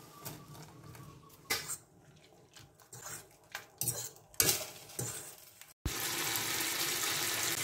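Handmade maccheroni go into a pot of salted boiling water in a home kitchen: soft clinks and pot knocks give way to a steady, close rush of bubbling water.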